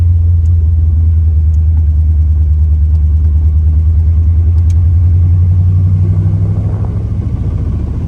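A restored 1972 Chevrolet Corvette with a four-speed manual, driving in the mid-to-upper rev range: a loud, steady, throaty engine drone dominates throughout, easing off slightly near the end.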